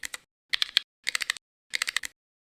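Keystrokes on a ZSA Voyager keyboard fitted with loud original switches, heard as four quick bursts of clicky clacking separated by short pauses, close and with no voices.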